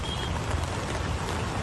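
Torrential monsoon rain in Mumbai pours down as a steady, dense wash of noise, with no pauses and no voices.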